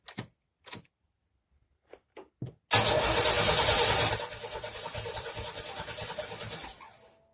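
A few soft clicks and brief cranking bursts, then a Pontiac Fiero engine catches and roars loudly before settling into a steady, lower idle.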